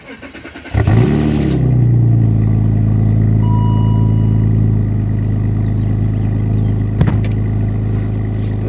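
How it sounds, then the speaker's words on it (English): A BMW E39's engine cranks briefly and catches, then settles into a steady, loud, close idle with a low rumble, a short tick near the end. "So I'm gonna go ahead and give you guys a start up real quick"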